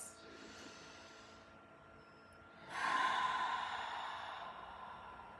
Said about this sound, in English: really taking some time to very intentionally take just big breaths at the beginning here